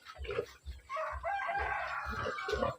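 Hens cluck in short repeated bursts close by, with a longer drawn-out call in the middle.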